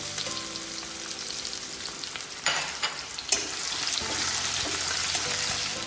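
Steady frying sizzle of onion in hot oil, close and continuous, with a few brief clatters partway through and no talking.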